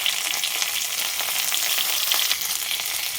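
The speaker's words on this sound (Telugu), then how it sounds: "ఇప్పుడు ఎండుమిరపకాయలు కరివేపాకు బాగా కలిపి కొద్దిగా ఇంగు పెట్టాలి" Dried red chillies and curry leaves fry in hot oil for an Indian tempering, a loud, continuous crackling sizzle that stays steady throughout.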